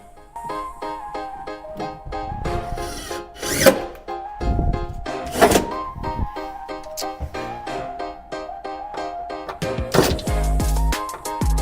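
A power drill drives screws into wood to fasten a floor heater during home sauna assembly, with repeated whirring bursts and rising motor whines, close and loud, separated by brief gaps.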